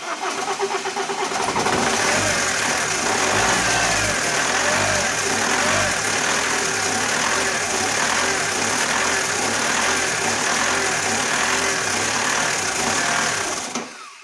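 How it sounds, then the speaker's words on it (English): Alfa Romeo 156 with a 1.9 JTD common rail diesel cranks and fires, then runs loudly and steadily with a dense, rough clatter, lacking a proper idle and showing a slight fluctuation. "It did start very well, but the car has no idle, and that has that fluctuation"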